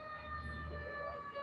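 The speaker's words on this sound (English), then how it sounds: "these sirens tonight going crazy" Emergency vehicle sirens wail outside at night, a steady far-off tone held throughout under low traffic rumble, with no talk.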